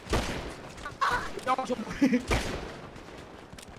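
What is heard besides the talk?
gunfire in the video game GTA V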